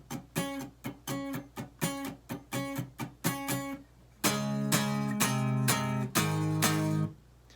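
Guitar plays the verse of a song: a rhythm of short, choppy strummed chords for about four seconds, then fuller, sustained power chords ringing out in steady blocks until the end.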